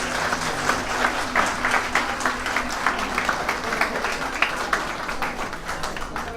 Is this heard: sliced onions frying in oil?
no